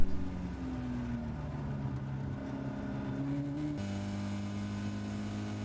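Caterham race cars lap Oulton Park through Druids near the end of the first lap, engines howling close and continuous, with pitch shifts at gear changes and a sharp step up near the end.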